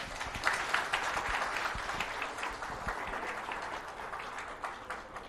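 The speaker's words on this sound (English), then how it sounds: "Big round of applause for him." Audience giving a round of applause after a presentation at a river beautification event, steady dense clapping at moderate distance that carries on evenly throughout.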